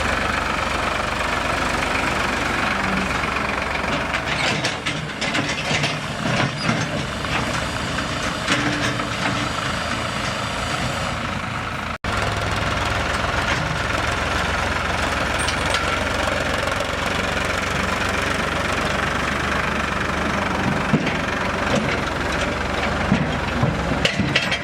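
A Farmtrac 60 tractor engine idles close by, a loud, steady diesel rumble with a slight knock that runs continuously, with only a brief break near the middle.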